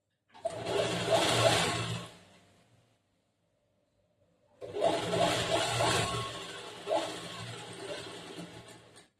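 A sewing machine stitches a half-inch fabric joint for a long umbrella frock in two close, whirring runs, about two seconds and then four seconds long, separated by a short silent pause.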